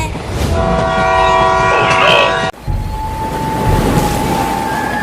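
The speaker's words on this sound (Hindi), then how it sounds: "आगे से ट्रेन आ रही है।" A train approaches on the railway track with a loud, sustained horn blast and rumbling wheels, followed by an abrupt cut to a continuing mechanical drone.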